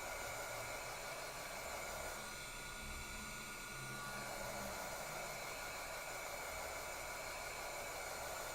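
A heat tool blows hot air over a gourd craft resting on a silicone mixed media mat, giving a steady, even, breathy whoosh that runs unbroken throughout at moderate volume.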